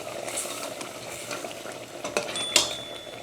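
Pav bhaji with masala powder stirred in a pan: faint scraping of a spoon against metal with soft sizzling, plus a couple of sharper clinks near the end.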